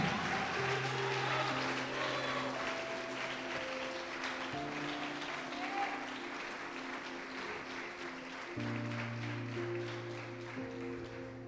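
A church congregation claps steadily through a service, the loud, dense applause holding over sustained keyboard-like tones before it eases slightly.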